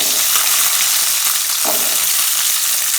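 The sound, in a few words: shallots frying in sesame oil in a kadai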